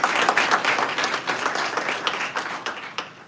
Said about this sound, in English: Please give a round of applause for Dr.